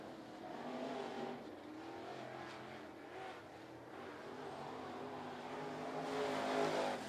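Race car rolling onto a speedway track, its engine rumbling and revving with a broad roar that swells toward the end, heard at a moderate distance.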